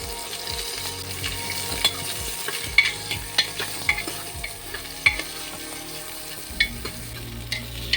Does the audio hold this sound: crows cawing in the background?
no